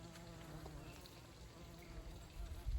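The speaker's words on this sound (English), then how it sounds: "There's 2 bees right there." Bees buzz in a soft, continuous hum close by, with a low rumble rising toward the end.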